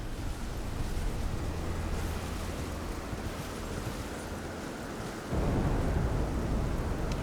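In Elden Ring, a continuous low thunder rumble swells abruptly louder near the end, a dense roaring storm without any voices.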